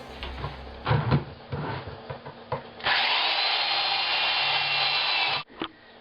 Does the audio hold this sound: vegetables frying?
no